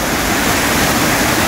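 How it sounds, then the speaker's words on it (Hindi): Water pours through roadside drains into a culvert in a dry spell with no rain, a dense, continuous rushing roar that is close and loud throughout. "यहाँ दो तरह के नाले बने हैं और पानी का बहाव देखिए आप"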